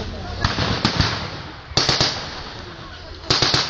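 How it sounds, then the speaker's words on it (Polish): A German anti-tank gun fires during a re-enactment of the Battle of Annowo, with several sharp blasts in irregular bursts against a noisy outdoor background where people can be heard. "Działko niemieckie rozpoczyna ogień."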